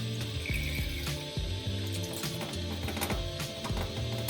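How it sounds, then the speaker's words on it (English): Tap water runs into the tank of a Tefal Pure Pop handheld steamer, a faint splashing with small knocks and clicks mixed in. "fill it with tap or demineralized water depending on the hardness of water in your area"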